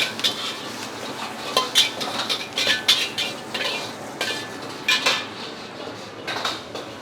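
Singapore-style fried rice with added chili sambal being stir-fried, a metal spatula scraping and clanking against a wok or pan in quick irregular strokes, loud and close with no talking.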